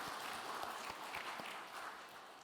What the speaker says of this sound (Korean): 우리 부활의 주님께 영광의 박수 올려드립니다.